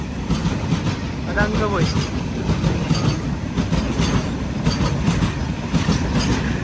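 A freight train carrying lorries on the Konkan Railway rolls past with a steady rumble and rhythmic clickety-clack of wheels, plus a brief squeal. Someone speaks briefly over the passing wagons.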